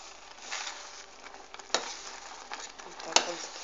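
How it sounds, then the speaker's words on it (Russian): Sour cream and flour mixture simmering in a pot on the stove, giving a steady soft bubbling sizzle with a couple of sharp clicks of a spoon against the pot. "Вот так он закипает."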